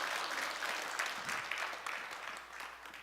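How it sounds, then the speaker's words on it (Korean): Church congregation clapping at a Sunday evening service, a dense, steady wash of hands from many people that carries on throughout and eases slightly toward the end. "박수 쳐주세요."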